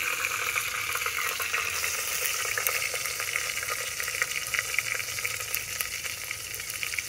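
Ghee sizzling hard in a pan while okra is fried with onions: a dense, steady, loud crackling hiss, close up, with faint stirring clicks and no talk.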